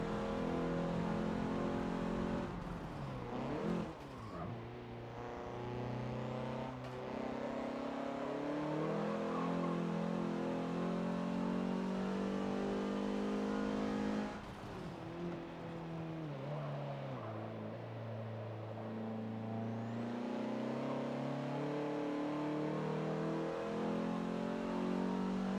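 A Dodge Omni racing in Forza Motorsport 7, its engine revving and climbing through gears with sharp drops at shifts, a steady loud drone of acceleration held for the whole run, no talk.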